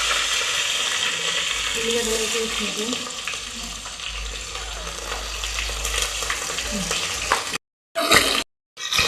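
Bottle gourd pieces dropped into hot oil already seasoned with tempering seeds and two or three chillies, a loud busy sizzle and stirring that runs steadily, then breaks off in short gaps near the end.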